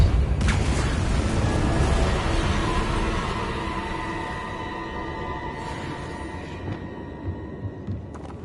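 A Depulso spell blast in Hogwarts Legacy sounds as a loud, broad, rumbling boom that slowly fades, with a faint tonal hum running beneath it and small clicks near the end.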